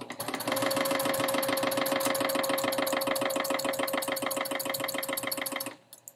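Close, loud sewing machine stitching quilt block pieces for a Fire Flower block, a rapid even mechanical chatter with a steady hum that runs for over five seconds before stopping abruptly, with no talking.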